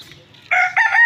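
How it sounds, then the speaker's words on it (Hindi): A hen lets out two loud, close clucking squawks after a moment of near quiet, the second call stretched and rising slightly. "गाइस आप लोग देख सकते हो ये हमारी मुर्गी है"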